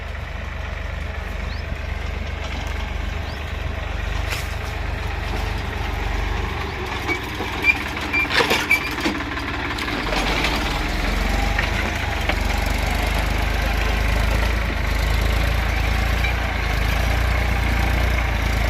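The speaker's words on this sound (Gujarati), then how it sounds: "જો આપણું ટ્રેક્ટર હાલ્યો આવે છે।" A farm tractor with a plough approaches, its engine rumbling steadily with low droning noise, growing somewhat louder toward the end, with a few brief clanks midway.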